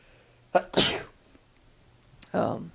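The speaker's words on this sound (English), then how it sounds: "Gotta sneeze." A sharp sneeze bursts out after a quick inhale, followed a moment later by a sniff or short exhale, close and loud.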